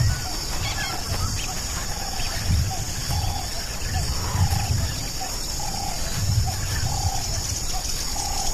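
Lion roaring in the African savanna: a low, pulsing rumble repeating several times at moderate distance, with faint bird calls and a steady insect whine running throughout.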